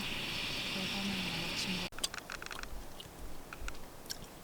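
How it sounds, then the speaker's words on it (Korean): Cup rice (cupbap) is eaten at a campsite, starting with a steady background hiss that cuts off, then close, soft chewing and light crunching bites. "컵밥을 먹어보겠습니다"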